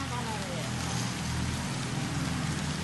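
Rain falling under a dark cloudy sky where rice grain is spread out to dry, a steady dense hiss of drops on surfaces, loud and continuous, with wind, no pauses.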